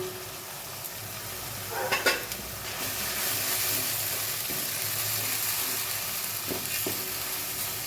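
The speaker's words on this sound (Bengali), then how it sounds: "এবার এই মশলাটা আমি ভালো করে কষিয়ে নেবো" Spices and masala fry in oil for an egg curry, a steady close sizzle with a few stirring scrapes and a brief louder burst of crackling as the pan heats.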